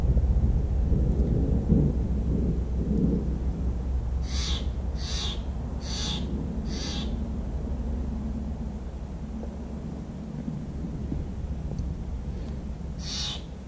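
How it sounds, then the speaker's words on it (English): A bird at Bryce Canyon National Park in Utah calls in a series of four sharp, loud bursts, then one more after a pause, over steady low rumbling background noise. "It's like that bird is yelling at me."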